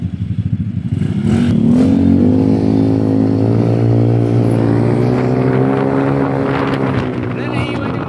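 A Yamaha Mio scooter engine hums close and loud, holding a steady drone whose pitch rises gently and then settles over several seconds, with road noise around it.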